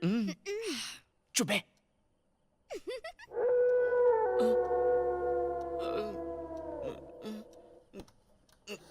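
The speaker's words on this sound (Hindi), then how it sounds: "भैया कुत्ता भौंक रहा है।" A dog howls in a long, wavering, siren-like cry lasting several seconds at night, with short sharp bursts before it and people talking around it.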